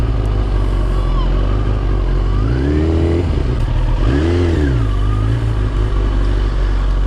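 A motorcycle engine revs twice, pitch sweeping up and back down over a steady idle, loud and close amid street background noise.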